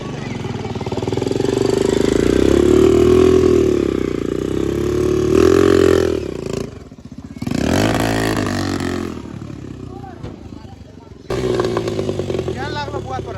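A homemade buggy built from motorbike parts, with a misfiring engine, revs loudly and close with a rough, buzzing drone. It drops out briefly between bursts, and people talk over the engine.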